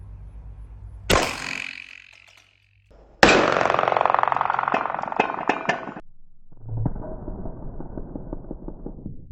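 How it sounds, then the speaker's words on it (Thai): Sharp gunshots ring out against a thin 4 mm steel plate outdoors, two loud cracks a couple of seconds apart with a metallic ring and echo trailing each, followed by softer rustling. "ยิงซ้ำให้ชมอีกทีหนึ่ง แต่ว่าเปลี่ยนเป็นเพลทที่บางลงเป็นเพลทสี่มิลนะครับ"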